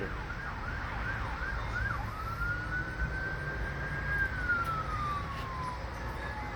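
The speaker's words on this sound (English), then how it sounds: "I'm listening to the sirens coming in the background." A siren wails in the distance, its pitch rising and falling then holding a long drawn-out tone, faint over a low background hum.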